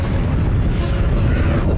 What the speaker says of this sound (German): Eine Supernova-Explosion ist unvorstellbar heftig.